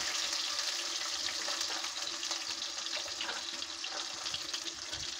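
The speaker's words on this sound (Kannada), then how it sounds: "ಈರುಳ್ಳಿ ಸ್ವಲ್ಪ ಫ್ರೈ ಆಗಲಿ." Onions fry in a pan over a low flame as the base for a layer-chicken curry masala, giving a steady, soft, close sizzle and crackle with no voices.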